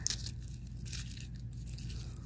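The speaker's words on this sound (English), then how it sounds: "So I'm going to peel all of these apart" Papery garlic bulb skins tearing and crinkling as the cloves are pulled apart by hand, close and quiet in short dry rustles.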